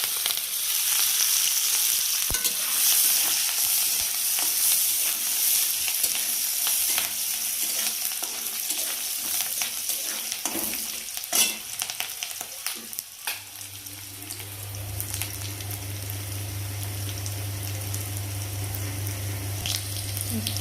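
Peanuts, chopped chili and garlic fry in a pan with a steady, close broadband sizzle and occasional stirring clicks, joined by a low steady hum in the last third; no talking.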